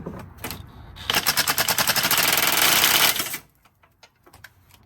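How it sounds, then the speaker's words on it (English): Impact wrench hammering on an oil pan bolt of a Dodge 6.4L engine, a loud close rapid rattling burst lasting about two seconds, with faint clicks and handling noise before and after. "I'm gonna get my impact right here"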